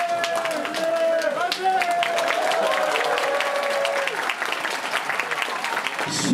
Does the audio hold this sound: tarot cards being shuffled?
no